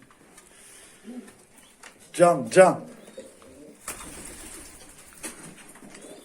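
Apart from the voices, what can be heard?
kanat posta pigeon cooing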